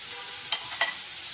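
Chicken with ginger and garlic stirred in a hot pan, a steady sizzle running throughout with two short scraping strokes of the spatula.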